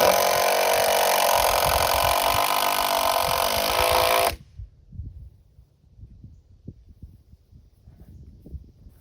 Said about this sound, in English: Going with 2 screws down this 2x4 to make it stable enough